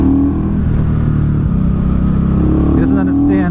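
An Indian Scout Bobber motorcycle rides with a close, loud engine drone that drops and then climbs in pitch as it shifts gears, with a rider talking over it.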